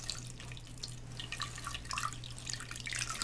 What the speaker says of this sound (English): we're going to pour a litre of beautiful fresh milk in there